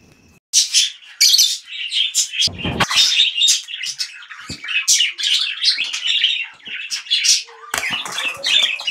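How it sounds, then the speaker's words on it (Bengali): A lovebird chirps and squawks repeatedly in busy, shrill bursts from inside a box, close by, with a few muffled knocks and rustles between calls. "এই বক্সটার ভিতর সুন্দর একটা পাখি আছে"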